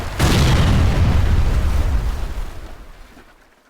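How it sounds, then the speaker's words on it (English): A fire ship rams and explodes in the real-time strategy game Age of Empires III, one loud, deep booming blast that hits suddenly and rumbles away over a few seconds, with no talk. "Pirate ship's dead ahead, Captain! Another fire ship. It's coming into ram."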